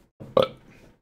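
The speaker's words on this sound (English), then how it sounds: "Good old hiccups." A single short, throaty hiccup bursts out close up after a person eats extra-hot vinegar-based hot sauce, followed by a faint trailing breath.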